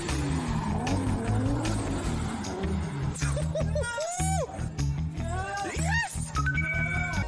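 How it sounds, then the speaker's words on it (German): A car skidding its tires while parking: loud engine revving with rising and falling squeals of tires, several sharp screeches in the second half, and a voice talking over it. "Dieser Autofahrer hat eine ganz besondere Technik, um mit seinem Auto einzuparken."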